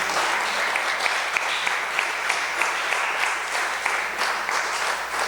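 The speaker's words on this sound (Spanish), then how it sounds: "¿Cuánto le dan un aplauso al Señor por eso?" A church congregation applauds steadily for about five seconds, a dense, even wash of clapping from many hands with no pauses and no voices rising above it.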